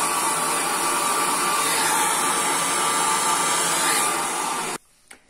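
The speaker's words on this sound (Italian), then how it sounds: "ora io mi asciugo i capelli" A hair dryer blows steadily and loudly at close range while drying hair after conditioner, a constant airy roar that cuts off abruptly near the end, leaving near silence.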